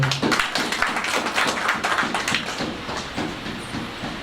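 Audience clapping at a certificate presentation ceremony, heard as steady, dense hand claps throughout that stay close and fairly loud, with no talking over them.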